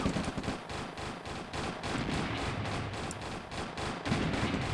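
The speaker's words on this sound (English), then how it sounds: "Spies are getting shot at by technicians." Gunfire from technicians shooting at spies in the Red Alert real-time strategy game, a dense, steady stream of rapid shots and small impacts over continuous battle noise.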